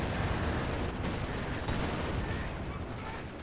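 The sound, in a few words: incendiary grenade exploding on rifleman in a video game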